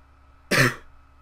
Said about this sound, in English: Cough to make it even more awkward.